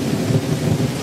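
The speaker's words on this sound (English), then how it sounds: "We are out here in a storm. It is raining right now, it's thundering." A heavy storm in the Appalachian mountains: thunder rumbles steadily under dense, close rain hitting surfaces, loud and continuous with no voices.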